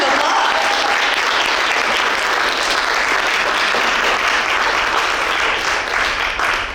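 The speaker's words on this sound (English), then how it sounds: "Round of applause." Sustained audience applause at a music awards ceremony in New Orleans, a dense, even wash of clapping from a sizable crowd that carries on steadily without a break.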